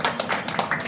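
A small group claps at a shop's grand opening, a quick burst of several sharp, close hand claps lasting under a second.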